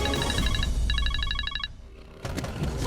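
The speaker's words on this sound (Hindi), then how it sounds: "कोई जरूरत नहीं है फोन उठाने की।" A telephone rings in an indoor domestic setting, with repeated electronic ring bursts in a steady rhythm, then a pause before another sound starts; no speech.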